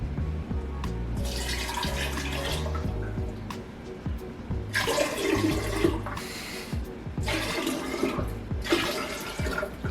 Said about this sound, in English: now I need to fill it up with water